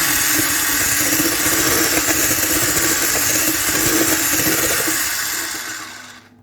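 Eggs being whisked for crepe batter, likely with an electric mixer, a steady loud whirring buzz running continuously for about six seconds before trailing off at the end, with no talking.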